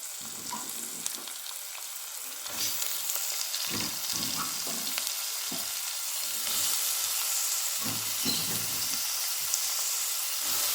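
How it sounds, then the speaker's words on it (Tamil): Onions and capsicum sauté in a hot pan, giving a steady loud sizzle and hiss with occasional scraping stirs, close up and without speech. "வெங்காயம் ஒரு அஞ்சு நிமிஷமாவது பொன்னிறமாக வதங்கட்டும்"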